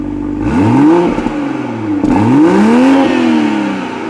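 A 2021 Toyota Supra GR A91 Edition engine, set to comfort mode, revs twice from a steady idle. Each rev climbs in pitch, then falls back, close and loud, with no talk over it.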